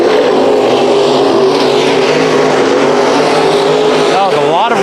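Race cars roar through a dirt-track heat race at Bakersfield Speedway, a loud continuous engine drone filling the whole span with pitch sweeping up near the end as cars pass close, under a commentator's talk.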